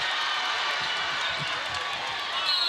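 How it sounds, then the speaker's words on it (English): Steady crowd noise fills a women's college basketball arena during an Alabama vs. Cal game, a continuous broad roar with faint shoe squeaks and thumps underneath, swelling slightly near the end. "Crowd making some noise and stepping on the sideline."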